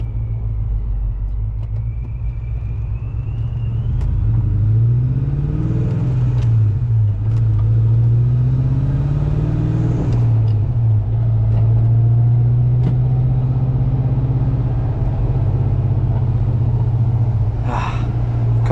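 A Pro Charged supercharged 1999 Ford Mustang GT with a manual gearbox drives along, its engine droning loud and steady from inside the cabin, rising and falling with shifts and revs.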